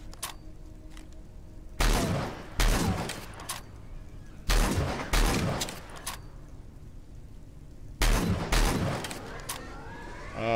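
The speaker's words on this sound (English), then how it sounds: "This double barrel shotgun's way better than it used to be as well" A double-barrel shotgun blasts in the sci-fi game Starforge, loud shots arriving in quick pairs with pauses between, each with a sharp crack and short decaying tail.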